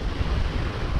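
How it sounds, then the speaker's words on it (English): Steady wind rushing and buffeting across the microphone while fishing, a low continuous roar with no voices. "it's a little bit windy today"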